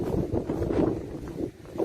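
Wind buffeting a microphone outdoors by a seaside cove, a loud, low, continuous rumble that swells and briefly dips.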